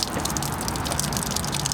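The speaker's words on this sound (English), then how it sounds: "You hear that water coming out?" Water drains from an RV's plumbing lines through open low point valves, a steady, close splashing and gushing rush with dripping, continuous for the whole moment and with no talk.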